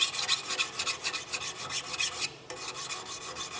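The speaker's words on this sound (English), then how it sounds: "So I'm trying to read the surface as I'm filing." A file rasps across a brass part from a colonial kit in quick, close back-and-forth strokes, each scrape bright and gritty, with one brief pause before the filing resumes.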